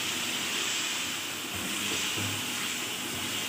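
Chicken frying with tomatoes in a pan makes a continuous close sizzle and hiss, with a few soft low knocks partway through and no voices.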